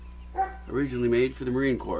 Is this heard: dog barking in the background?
yes